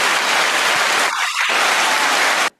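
Audience applause breaks out at a live event honoring a drummer stationed at Fort Carson, Colorado Springs: dense, steady clapping that dips briefly midway, then stops abruptly.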